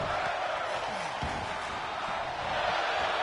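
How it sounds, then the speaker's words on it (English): An arena crowd in the WWE 2K24 wrestling game fills the space with a dense, steady roar of voices, a chant blurred into constant noise, with a faint thud partway through. "The crowd began to chant, "Fight forever.""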